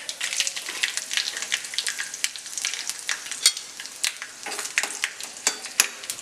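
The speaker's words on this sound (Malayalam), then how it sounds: "കടുക് ഒന്ന് പൊട്ടിക്കഴിയുമ്പോഴേക്കും അതിലേക്ക് 2 വറ്റൽമുളക് ചേർത്ത് കൊടുക്കാം." Mustard seeds and two dried red chillies sizzle in hot oil for a Kerala-style taro curry. A steady, close frying hiss is broken by frequent sharp pops and crackles, with no voices.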